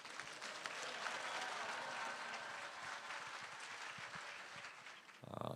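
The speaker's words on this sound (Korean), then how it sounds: "큰 박수로 환영하시겠습니다." Faint, steady congregation applause at a New Year prayer revival meeting welcoming the senior pastor to the pulpit, a continuous distant wash of clapping that cuts to other sound at the very end.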